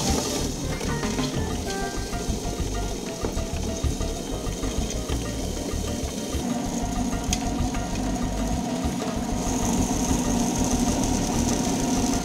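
A chocolate conching machine runs continuously, giving a steady, even mechanical churning drone with a low rumble and no voices.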